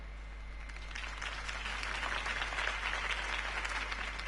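Crowd applause for Harvey Dent's campaign speech in the Batman Telltale video game, a steady wash of many hands clapping that swells slightly and holds at moderate level over a low constant hum.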